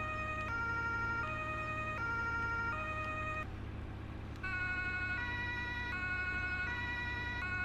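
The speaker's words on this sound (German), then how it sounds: "wir haben insgesamt drei Martinshörner" Emergency vehicle siren horns from a fire engine in Landwirtschafts-Simulator 17 sound as a loud, steady electronic wail, cutting out briefly at about four seconds before resuming over a constant low engine drone.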